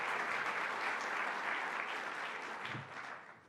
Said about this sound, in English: One more round of applause for our state senator, Louis Sepulveda.